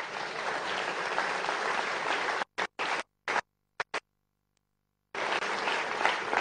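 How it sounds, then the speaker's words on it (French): An audience in a hall at a political speech applauds European deputies, a dense burst of clapping that cuts out abruptly into choppy fragments and brief silence before the clapping resumes at full strength. "Vous pouvez les applaudir."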